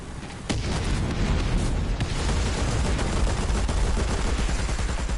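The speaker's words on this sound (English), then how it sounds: "pesky little AA tank shooting at us" In War Thunder realistic battles, an anti-aircraft tank fires at an IS-6 heavy tank, a loud, dense, continuous burst of rapid gunfire that kicks in sharply after a brief quieter start and rattles on without pause.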